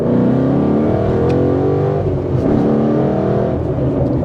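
A car's engine revs hard under load through quick gear changes, a loud, continuous drone with steady harmonics that dip and climb again between shifts, heard close from inside the cabin with no talk.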